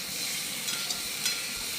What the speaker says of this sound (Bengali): একটু নেড়ে ভালো করে শুকনো শুকনো করে একদম মশলাটা ভাজবো